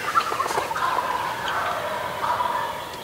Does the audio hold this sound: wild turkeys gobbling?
yes